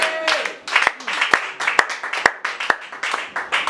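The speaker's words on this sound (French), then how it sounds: "Acclame très fort le Seigneur." A church congregation applauds loudly in fast, uneven rhythmic clapping with sharp individual claps cutting through, while voices call out over it throughout.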